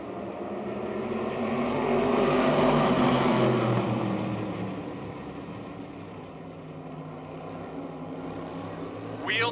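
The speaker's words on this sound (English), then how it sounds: "wheel-to-wheel racing action in the YO-Tech Modifieds as their 25-lap feature begins" Modified race cars roar together at Motordrome Speedway as a 25-lap feature gets underway, a steady loud engine drone swelling then easing, wheel-to-wheel pack racing with a broad rumbling blur of motors.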